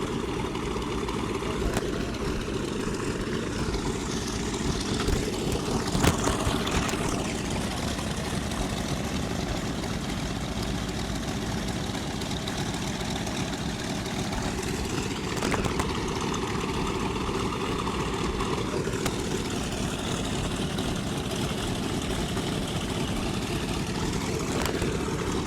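Propeller engines of World War II B-17G and B-25J bombers run steadily at the Coeur d'Alene Air Expo, Pappy Boyington Field, as the planes begin to taxi, a continuous loud low drone with a constant rumble throughout and no speech.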